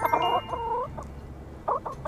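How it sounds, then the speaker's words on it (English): Chickens in the farming game My Time at Sandrock give a couple of short, close clucking calls, a brief burst at the start and another near the end over a quiet background hum. "looks like all my chickens are now fully grown"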